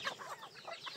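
Several soft clucks from chickens nearby, irregular short calls scattered across the moment, fairly quiet with no talking.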